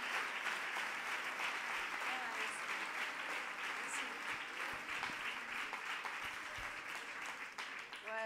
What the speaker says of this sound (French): les applaudissements témoignent vraiment de ce qu'on a pu ressentir les uns et les autres